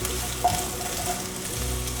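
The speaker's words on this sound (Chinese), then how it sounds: "我习惯这样子煎芋头，因为用到的油不会太多" Taro pan-frying slowly in a little oil, giving a steady close sizzle with a faint clink of a stirring utensil near the start and no voices.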